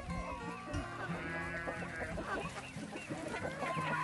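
A flock of chickens clucks and chatters steadily and close by while eating, with overlapping calls and bits of pecking and scratching throughout.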